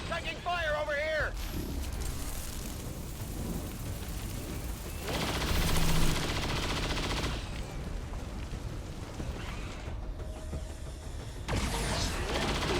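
Gunfire in the XCOM 2 War of the Chosen video game, with bursts of shots and mechanical clatter from the game mixed under someone talking over the action.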